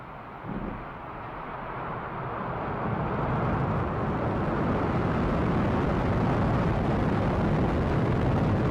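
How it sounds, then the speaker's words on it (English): A SpaceX Falcon 9 rocket carrying a Crew Dragon lifting off, a deep broadband roar that swells and builds to a loud, continuous rumble heard from a distance. "Ignition, liftoff."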